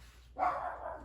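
A single sharp bark from a pet dog rings out indoors in a woodworking shop, moderately close and brief, followed by a short tail of room echo.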